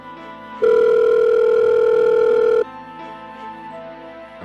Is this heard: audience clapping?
no